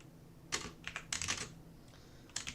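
Bursts of typing on a computer keyboard, a few short clusters of crisp key clicks separated by brief pauses, close and clear.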